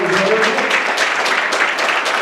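A church congregation gives a loud, sustained hand clap of praise, with dense clapping and some voices mixed in throughout.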